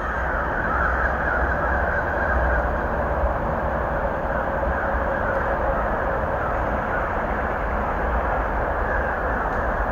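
A whole flock of startled crows caws continuously while circling outdoors, harsh overlapping calls near and far over a steady broadband background rumble.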